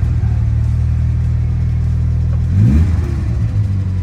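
1998 Morgan Plus 4 with a 2.0L DOHC engine running steadily close up, a low thrumming idle with a brief rev swelling midway before settling back, no talking.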